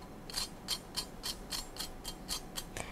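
Nutmeg grated onto mashed potatoes for a cottage pie gives a run of about eight crisp, evenly spaced rasping strokes. The strokes are close and quiet, with no talking.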